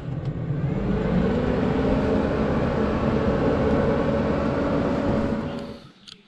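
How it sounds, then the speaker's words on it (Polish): Fiamma Turbo Vent roof fan on a camping caravan set to blow air inward, a steady close whooshing hum with a droning tone that holds evenly, then winds down and cuts off near the end. "teraz przestawimy ją na wtłaczanie powietrza. Czyli robi za wentylator."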